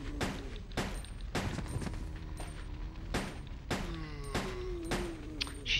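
Gunfire in Resident Evil: Code Veronica X: about a dozen separate sharp shots ring out at irregular intervals, each followed by a brief ringing tail, over quiet game ambience.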